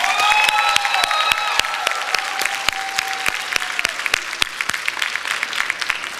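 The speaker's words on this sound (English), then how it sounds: "Let's give them a round of applause once again." A crowd claps at an 8th grade graduation, a dense round of applause with one sharp, regular clapper standing out near the microphone as faint voices ring through the first seconds.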